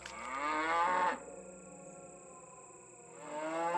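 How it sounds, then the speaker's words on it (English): Cow in the video game Swordhaven: Iron Conspiracy gives a long, low moo, loud and close, then a quieter gap over a steady game tone before a second moo begins. "Is that a cow? Yes."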